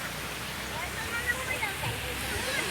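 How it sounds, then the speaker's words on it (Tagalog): A river flows with a steady broad rush near rice fields and water spinach plantings, continuous and moderately loud, with a voice talking softly over it. "Yan ang ilog namin dito"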